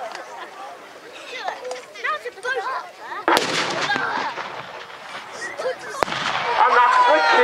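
Gunfire from a CVRT armoured vehicle at a tanks, trucks and firepower show, with loud sharp reports and booms carrying across the open ground over crowd chatter and a voice talking.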